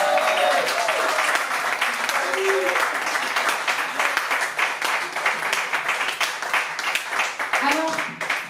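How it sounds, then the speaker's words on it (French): Audience applause at a concert in the Zonmé venue in Nice, a steady wash of clapping that runs the full length with a few cheers and voices mixed in, fairly loud and close. "Je vous demande un tonnerre d'applaudissements, s'il vous plaît, pour Christophe."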